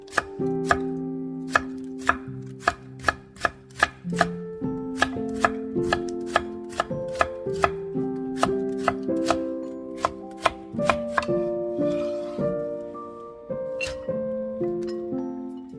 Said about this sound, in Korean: 얇게 채를 썰어 주세요.